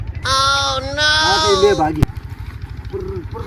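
A goat bleats twice in long, wavering calls, up close and loud, outdoors, then a sharp knock and a fainter short bleat follow while someone talks underneath.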